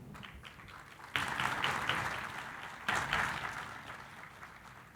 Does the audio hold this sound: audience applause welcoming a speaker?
yes